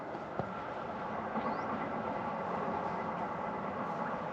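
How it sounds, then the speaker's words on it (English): A low, steady rumble of a train rolls along in the distance near Restormel Castle, faint and continuous under outdoor background noise. "There's a train over there somewhere."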